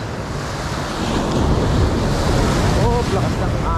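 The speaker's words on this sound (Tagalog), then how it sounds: "Oh, lakas ng alon." Strong sea waves roar and wash continuously, with heavy wind buffeting the microphone throughout.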